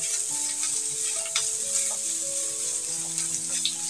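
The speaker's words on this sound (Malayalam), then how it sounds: "ഇനി ഒന്ന് ഇളക്കി കൊടുക്കാം" Grated coconut and raisins being stirred in a hot frying pan for a banana evening snack, giving a soft, continuous sizzle with scraping spatula strokes and faint tonal background hum, no speech.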